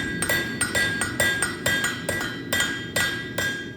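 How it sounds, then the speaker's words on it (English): A blacksmith hammers metal at a forge, striking about nine sharp, ringing blows in a steady rhythm over a constant roar from the fire, close and loud with no talking. "Blacksmithing has been around for centuries, although this is the first time Austin and I have ever picked up the hammer"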